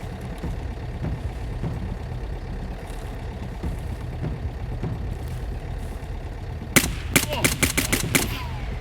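A burst of rapid gunfire erupts near the end in the shooter game Escape From Tarkov in the Woods map, several sharp loud shots in quick succession after a long stretch of low rumbling ambience.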